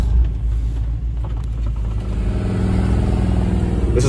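A 1957 Willys station wagon 4x4 with a 350 small block Chevy V8 runs close by, a loud deep rumbling idle that builds into a steady throaty drone, with no talk.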